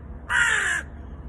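A single loud, harsh caw from a crow perched on a rooftop in Tel Aviv, close by and lasting about half a second over faint background noise.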